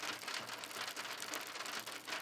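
Steady rain patters densely on surfaces in a forest, a soft, even hiss that continues alone without any voices.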